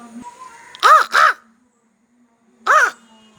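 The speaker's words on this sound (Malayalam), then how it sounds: "കാക്കയൊന്ന് വിളിക്കായിരുന്നു" A crow caws near and loud outdoors: two quick harsh caws in succession, a pause, then a third caw, with a quiet background between calls.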